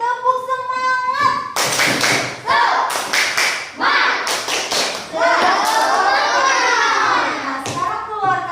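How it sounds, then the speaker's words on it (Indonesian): Schoolchildren in a classroom perform a rhythmic spirit clap, bursts of quick patterned hand claps and taps mixed with children's chanting and voices, loud and close, with a teacher speaking at the start. "Oh, Yosi, tepuk semangat."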